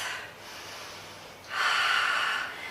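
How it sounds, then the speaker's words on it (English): Two big breaths during a HIIT plank workout, a softer inhale followed by a louder, fuller breath, close and breathy with no talking. "nice big breath"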